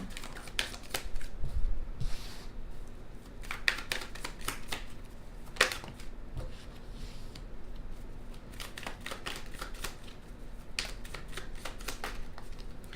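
Close, crisp tarot card shuffling in repeated quick riffles and snaps, with short pauses between bursts, fairly quiet overall.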